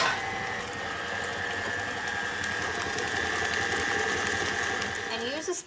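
Cookie dough being mixed with the rest of an egg in a bowl by an electric mixer, a steady mechanical whir running unbroken and fairly loud, with a voice talking over it.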